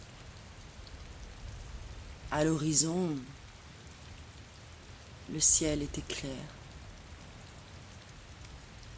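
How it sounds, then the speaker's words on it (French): Steady rain falls on a surface across the whole stretch, a dense even patter that runs on unbroken. A narrator speaks calmly over it twice. "La pluie à présent."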